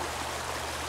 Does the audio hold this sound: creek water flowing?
yes